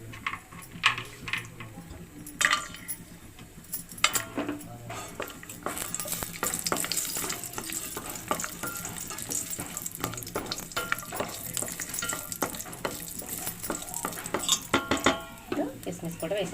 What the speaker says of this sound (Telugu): మనం ముందుగా జీడిపప్పు వేసేసుకుందామండి.